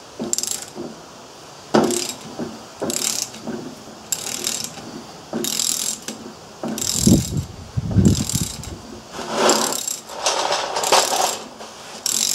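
Ratchet handle clicking in repeated short bursts as a socket works on the valve area of an old Briggs & Stratton 5S small engine, up close with pauses between strokes and a few dull knocks.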